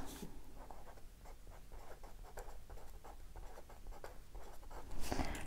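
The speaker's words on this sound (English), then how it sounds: "I'm actually going to use the black to write standard on these." A Zebra Click Art pen scratches across labels in quick repeated strokes, soft close scribbling that continues in bursts with a slightly louder scrape near the end, no voices.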